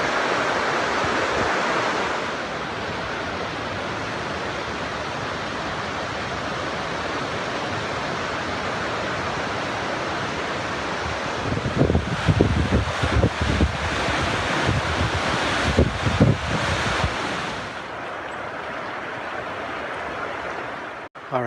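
Flowing water of Summit Creek on a solo backpacking trip, a steady broadband rush heard outdoors with wind buffeting the microphone, growing louder and gustier midway before settling.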